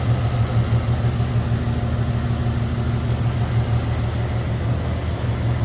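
A 1950 Lincoln six-passenger sport sedan with a single carburetor and 6-volt system idles smoothly, a steady low engine hum held evenly throughout with no voices.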